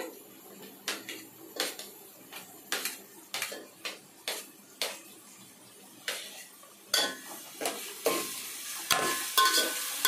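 Tomato frying in a pan for okra curry, with a soft sizzle under repeated scraping strokes of a spoon stirring against the pan, irregular and close, growing busier toward the end.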